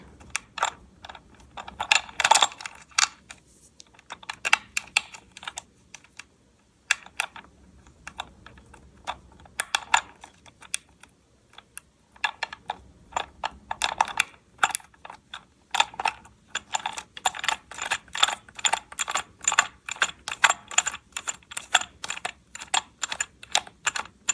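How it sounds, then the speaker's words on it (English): Tightening the plastic screw on a yarn ball winder: dense bursts of quick plastic clicks and ratcheting taps, close and sharp, with short pauses between turns and no talking. "put the screw and screw it as tight as you can"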